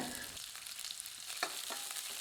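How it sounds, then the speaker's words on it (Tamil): Mustard seeds sputter and crackle in hot oil, a dense hiss with sharp pops scattered throughout, close and steady. "அரை டீஸ்பூன் கடுகு கடுகு பொரியறது"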